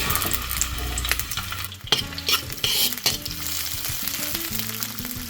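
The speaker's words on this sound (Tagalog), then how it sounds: "Ayun, magigisa na po tayo mga kabisnes." Onions sizzle and fry in a hot pan while being stirred, with steady crackling and scraping of a utensil against the pan, close and continuous, as a miso cream dory dish is cooked.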